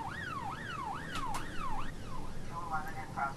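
A wailing emergency siren from the police-management video game This Is The Police, rising and falling in steady sweeps, loud and close, with a brief tonal change near the end and no talk over it.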